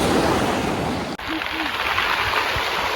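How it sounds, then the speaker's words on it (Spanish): Sea waves wash over a stony beach at Paracas, Peru, with a broad, continuous rushing roar and a brief dip partway through, mixed with some wind. "con el sonido de estas piedras y de este mar"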